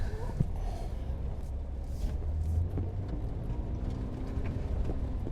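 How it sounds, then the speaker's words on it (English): A Porsche 911 (997 S) engine with its exhaust valve permanently open burbles and rumbles at idle with a deep, throaty exhaust note, steady and fairly close, with faint background noises. "the exhaust is permanently on, or the valve is always open, and it sounds good"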